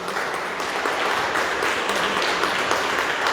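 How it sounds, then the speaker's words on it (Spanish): A church congregation applauds in a parish gathering, with a dense, steady wash of many hands clapping filling the room throughout, loud and without pause. "Vamos a darle un fuerte aplauso a Jesucristo."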